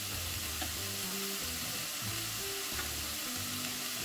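Mushrooms frying in a pan on lowered heat alongside peppers, for stuffed butternut squash: a loud, continuous hiss and sizzle under low tonal background music, with no speech.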